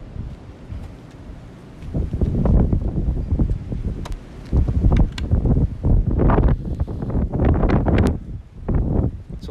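Strong wind blows outdoors in loud buffeting gusts that batter the microphone, rising and falling irregularly with rustling beneath.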